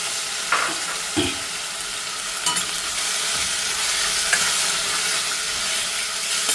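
Tomatoes frying in very hot oil with garlic for a palak paneer gravy give a steady, loud broadband sizzle, with a few brief scrapes and clinks of stirring scattered through it.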